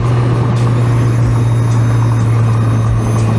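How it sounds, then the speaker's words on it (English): Road traffic heard from inside a moving Mazda Miata, a dense, steady rumble of passing vehicles and engine drone with a constant low hum, loud and unbroken throughout. "Too much traffic."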